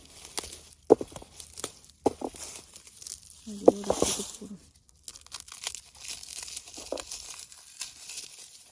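Close, crackly crinkling of a plastic garlic bag comes in short bursts and rustles, with a few sharp handling noises.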